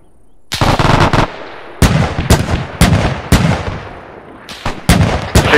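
Bursts of automatic gunfire from friendly players in a World War II video game, six or seven loud close volleys separated by short pauses, with no talk over them.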